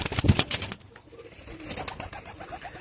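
Pigeons cooing softly in a series of short repeated calls, with some rustling and faint fluttering nearby.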